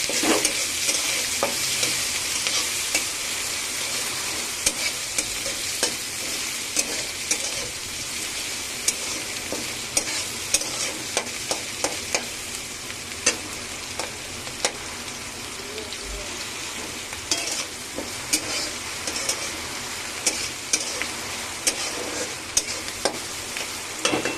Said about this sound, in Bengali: ভালো করে নেড়ে চেড়ে একটু লাল লাল করে ভেজে নেবো পেঁয়াজগুলো।